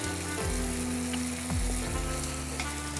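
Spices and soy sauce frying in a pan while making meat buns, a continuous low sizzle and crackle with occasional stirring scrapes, steady and close throughout with no voices.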